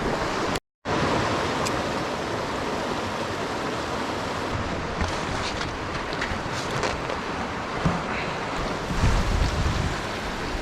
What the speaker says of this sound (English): it's a little creek, a lot of water coming down